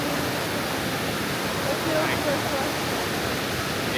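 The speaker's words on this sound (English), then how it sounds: "it's going pretty hard right now because all the snow is melting finally" A large waterfall swollen with spring snowmelt roars in a steady, dense wash of broadband noise, loud and close, with faint traces of voices under the rush.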